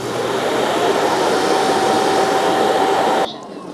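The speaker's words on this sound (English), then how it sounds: "It's going to empty out the waste bin inside here." A eufy RoboVac L35 Hybrid+ docking station gives a loud, steady suction roar as it empties the robot vacuum's waste bin. The roar cuts off abruptly near the end.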